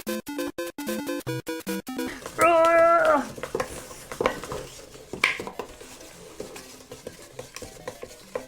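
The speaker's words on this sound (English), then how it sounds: "you just mix it up so that it all becomes nice and fluffy and mixed" Butter and sugar being mixed in a bowl, with a quick run of rhythmic scraping strokes, a brief voice, then scattered clinks and softer stirring.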